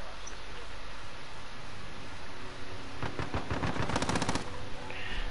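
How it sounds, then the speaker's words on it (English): Automatic gunfire in Call of Duty Warzone, a rapid burst of shots in the second half, loud over a steady game background without speech. "I hear gunshots. Gunshots are near you, man, apparently, by the sounds of it."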